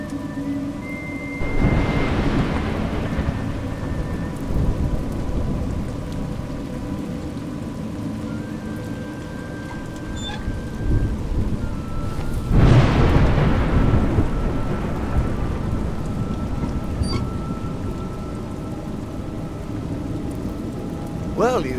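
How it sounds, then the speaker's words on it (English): Steady rain and rolling thunder in the video game A Juggler's Tale, with two loud rumbling thunder swells over a continuous wash of rainfall and no talking. "It's raining."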